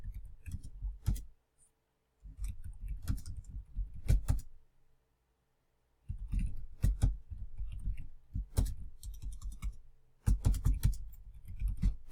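Typing on a computer keyboard while replying on an online course discussion board: rapid bursts of close, clicky keystrokes in several runs separated by short pauses.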